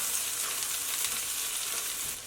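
Chili, scallion whites and garlic frying in a wok, a faint, even hiss of hot oil that holds steady throughout with no distinct stirring strokes or voices.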